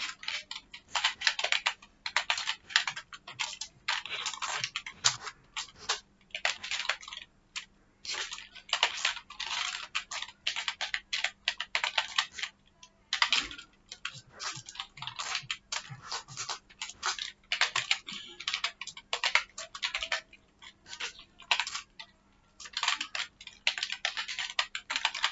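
Steady typing on a computer keyboard while writing C code syntax for an else-if ladder, with fast irregular bursts of clicky keystrokes and brief pauses, close and clear with no talk.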